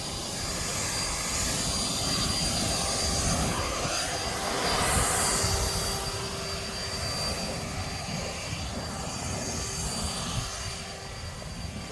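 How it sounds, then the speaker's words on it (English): A leaf blower clears debris at a campsite, its loud, steady whooshing roar continuing close by throughout, swelling slightly midway, with no talk. "So here comes Dave with the blower"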